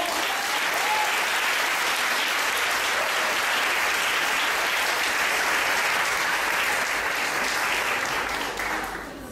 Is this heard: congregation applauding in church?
yes